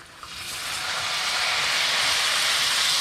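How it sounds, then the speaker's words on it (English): Garlic sautéing lightly in a pan for pasta alle vongole gives a soft, steady sizzling hiss that swells in the first second and then holds evenly, with no talking. "we're just really, really light sauteing that garlic"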